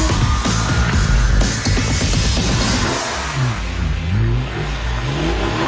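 Porsche 911 engine revving hard, a loud, continuous mid-pitched roar that rises and falls through gear changes, heard close with no voices.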